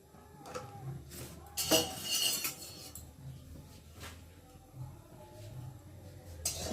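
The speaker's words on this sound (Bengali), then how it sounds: "প্রথমে আমি কড়া বসিয়েছি, কড়াতে তেল দিচ্ছি।" A wok is set on a stove and oil is added for a shrimp, cauliflower and potato dish, with scattered metal clinks and clatters of cookware, one louder burst of scraping and clanking near the middle.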